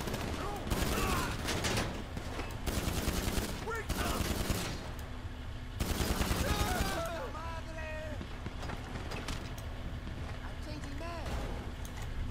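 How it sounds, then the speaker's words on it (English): Bursts of rapid gunfire from GTA 5 Online, with hostile players shooting during a Halloween session, arriving in loud clustered volleys separated by quieter gaps, with game sounds and tonal effects in between. "we've got people going hostile around us, just hitting us with bullets"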